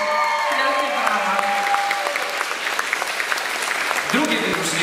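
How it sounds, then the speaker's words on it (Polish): Steady applause from an audience at a festival award ceremony, a diploma presentation for a music group, with harmonic tones and a voice briefly audible beneath the clapping throughout. "Wielkie brawa."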